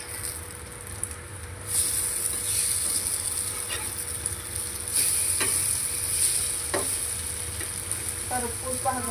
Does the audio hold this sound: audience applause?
no